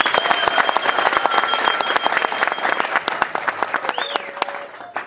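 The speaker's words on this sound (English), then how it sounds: "Give yourself a round of applause." Dense, loud applause from a crowd at the 2023 United Zimbabwe Alliance election manifesto launch, with rapid overlapping claps that run steadily for about five seconds and fade slightly at the end.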